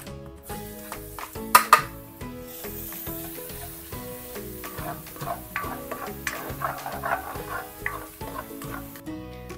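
A whole head of garlic fries in hot cooking oil, giving a steady, moderate sizzle with occasional clinks and scrapes from stirring in the pan nearby.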